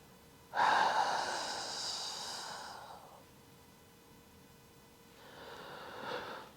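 A long, forceful exhale through the mouth comes during a side-lying hip pull-back exercise. It is close and breathy, tails off over about two seconds, and is followed after a pause by a second, softer breath out.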